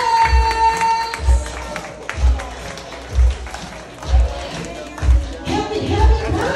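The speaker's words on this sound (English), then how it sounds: "Let's keep them a big round of applause. Clap your hands." Crowd clapping at a kid's birthday party, with loud rhythmic heavy beats roughly once a second under a general murmur of hands and voices, plus a bright tone early on.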